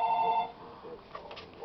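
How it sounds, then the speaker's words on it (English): Telephone ringing on the Elmo's World children's TV show, a repeated electronic ring tone in a brief burst at the start, followed by faint background sounds and voices. "The phone won't stop ringing."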